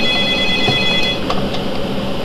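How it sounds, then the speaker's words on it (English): An indoor telephone rings, a steady electronic trill sustained over a low background hum, close and moderately loud with no talking. "Get the phone. I'm about to get the phone here."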